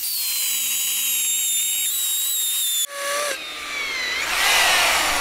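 A cheap power drill boring through material during DIY electrical service work, a steady high-pitched whine that briefly drops and stutters, then surges louder again as it bites, close and continuous with no talk.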